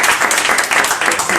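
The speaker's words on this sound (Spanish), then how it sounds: "denle un aplauso al Señor por Jonás" Brief congregation applause in a church, a close burst of many hands clapping with a voice faintly mixed underneath.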